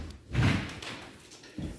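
A house entrance door swung shut with a solid thud and a knock of the latch, followed by a softer clunk as the lock engages; close and fairly loud, with no talking.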